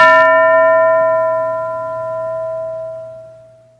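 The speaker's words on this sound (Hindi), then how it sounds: "घंटी बजते ही टीचर जी किन्हीं दो बच्चों को खड़ा करेंगे।" A single bell for a classroom activity rings out loudly once, its clear metallic tone sustaining and slowly fading over several seconds with no voices.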